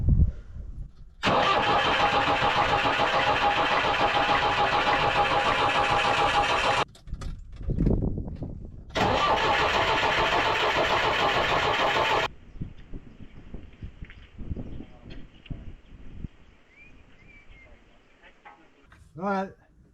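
A digger engine cranks and then catches twice with the throttle open, each time a loud, steady roar lasting several seconds before cutting off, followed by quieter rumbling and clanks, with people talking nearby.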